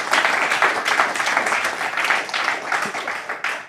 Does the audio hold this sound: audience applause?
yes